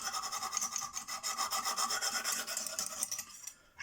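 A Lansky sharpener draws lightly and repeatedly across a CK Viper knife edge to take off the burr, a close, quiet rhythmic rasping of quick strokes that stops near the end.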